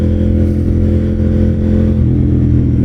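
A KTM Duke 890 GP motorcycle with a full Akrapovic exhaust system, baffle removed, runs loud and close with a deep, steady engine drone that lifts slightly near the end, with no voices.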